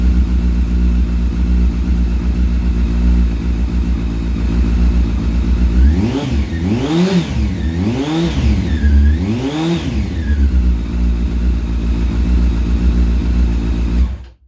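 A motorcycle with a sports exhaust idles with a deep rumble, then revs up and down four times in smooth waves before cutting off abruptly at the end.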